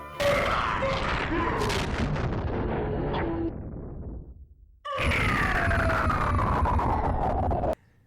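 Laser fire and explosions from a Star Fox Assault boss fight, dense rapid blasts and booming impacts filling the foreground, fading out briefly before another loud burst with a descending sweep.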